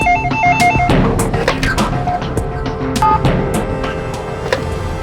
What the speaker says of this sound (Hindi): तो भी फोन उठाओ